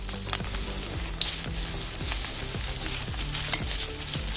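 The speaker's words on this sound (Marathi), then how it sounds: "त्यासाठी 1 चमचा तेल घेतलंय मी, त्यामध्ये हा एक मोठा कांदा चिरून घेतलेला आहे" Chopped onion fries in a spoonful of hot oil in a pan, giving a steady, close sizzle with occasional stirring scrapes.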